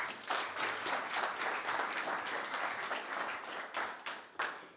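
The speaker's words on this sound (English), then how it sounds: "So give them a round of applause." Audience applause at a founder meetup, a room of people clapping steadily for several seconds, with some individual claps standing out toward the end.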